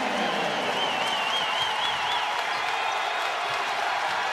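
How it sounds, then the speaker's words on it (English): Crowd noise fills a college basketball arena during a tight late-game stretch, a steady dense roar with scattered applause and cheering that holds at a constant level throughout. "the crowd really coming to life"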